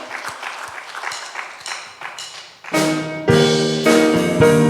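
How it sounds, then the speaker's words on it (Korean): A church congregation claps during a Sunday worship service: a patter of hand claps for a couple of seconds before loud instrumental music swells in and carries on alongside them. "박수로 하나님께 영광 올려드립시다."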